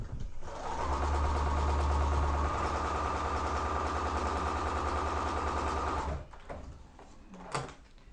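Sewing machine stitching quilt block rows, a steady continuous mechanical whir with rapid needle chatter lasting several seconds, then stopping, followed by a few faint handling clicks.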